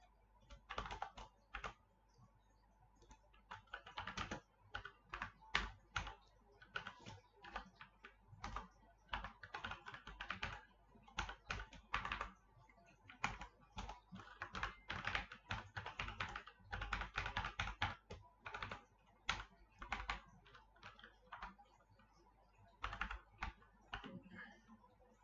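Java code being typed on a computer keyboard, a long, fairly quiet run of rapid, uneven key clicks in bursts and pauses, with no talking over it.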